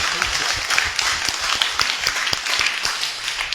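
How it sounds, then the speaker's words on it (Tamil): An audience claps steadily for a few seconds at a church Mass, dense applause filling the room with no voices standing out. "கைதட்டுவோமா?"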